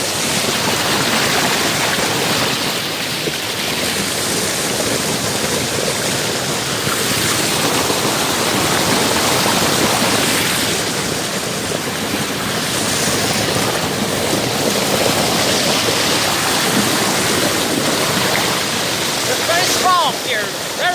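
Creek water rushes loud and close in a dense, unbroken roar, with a few faint voices almost buried beneath it.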